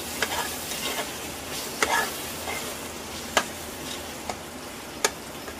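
Tomato masala sizzles steadily in oil in a pan, with a spoon scraping and tapping against the metal every second or so as it is stirred; no one speaks.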